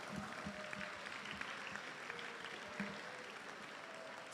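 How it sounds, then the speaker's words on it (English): Steady applause from a school audience at a high school academic awards ceremony, honoring students; continuous clapping at moderate level throughout, without talk. "So give you guys a round of applause"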